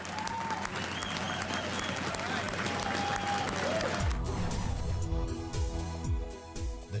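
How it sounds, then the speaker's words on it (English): A crowd applauds the builders of Boston's Big Dig tunnel project, with clapping and cheering under ambient noise. Partway through, music swells in over the applause. "Let's give them the round of applause that they deserve for building this project"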